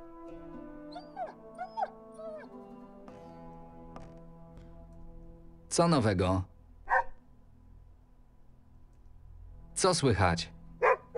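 Dog in a video game (Kroniki Myrtany), short yips and bursts of barking with whimpers, heard alongside game music and someone talking.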